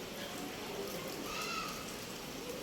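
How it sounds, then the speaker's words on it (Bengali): Heavy rain falling outdoors makes a dense, steady hiss that stays even throughout, with no speech over it. "দেখো প্রচুর পরিমাণে বৃষ্টি হচ্ছে"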